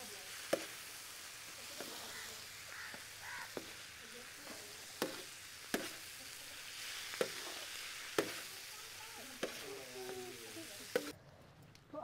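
Chicken liver frying with masala on a tawa, sizzling steadily and close at hand, with regular sharp scraping clicks from stirring and a brief voice near the end.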